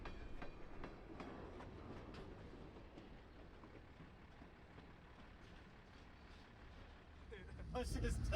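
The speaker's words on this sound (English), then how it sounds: "We also found a train." A train rumbles past at night in rough conditions, a faint, distant steady rolling with soft rhythmic clicks, growing louder toward the end.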